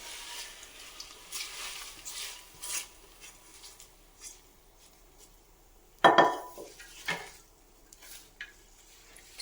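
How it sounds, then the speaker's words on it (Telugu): Quiet scraping and clinking of a spoon mixing tempering into mango pulihora rice in a metal pot, with a sharper clank midway and soft rustling strokes. "దీన్ని అయితే ఇప్పుడు మనం పులిహోరలో వేసి బాగా మిక్స్ చేసుకుందాం"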